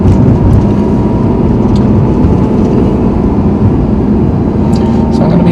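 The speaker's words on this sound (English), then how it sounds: "Now you can begin to hear the engine sounding noisy," A manual car engine revving noisily before a gear change, a loud steady rumbling drone of engine and road noise heard from inside the cabin.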